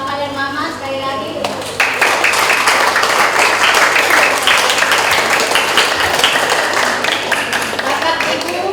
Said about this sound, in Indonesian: Tepuk tangan untuk Bapak dan Mama sekali lagi.